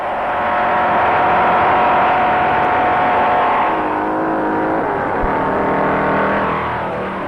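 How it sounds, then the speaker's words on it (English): Loud, sustained engine roar of a 1957 race car speeding along the Daytona Beach course, holding a steady high drone that swells and shifts in pitch as it rounds the north turn, with no talk. "His car responds beautifully as he roars through the north turn"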